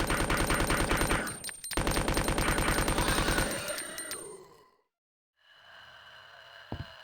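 SMG in Resident Evil 2 firing rapid, loud automatic bursts for about four seconds with a short break, then tailing off into silence, followed by faint ambient tone and a small click.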